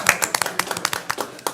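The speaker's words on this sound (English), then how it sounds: "You can clap for the kids." Scattered clapping from a small audience at a school board of education meeting, a handful of distinct hand claps at an uneven rhythm rather than a full ovation.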